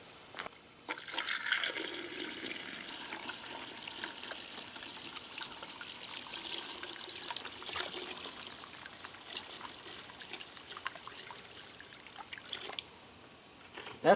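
Liquid pours into an acid bath where aluminum car parts from a 1966 Chevy Biscayne soak, a quiet continuous splashing trickle lasting about twelve seconds, starting and stopping abruptly.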